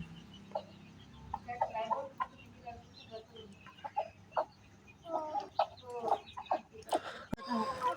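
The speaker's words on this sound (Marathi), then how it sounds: "ह्या बघा ह्या कोंबड्या आल्या बोलावल्या" Chickens clucking in short, scattered bursts, several birds close by, fairly quiet overall, with a brief sharp knock near the end.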